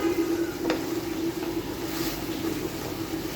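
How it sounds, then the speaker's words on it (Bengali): Chicken masala being sautéed with green chillies in a pan gives a steady, fairly loud sizzle with a faint scrape of stirring, continuous and without talk. "তবে এই কাঁচামরিচের সাথে আমার এটা ভালো করে কষিয়ে নিচ্ছি"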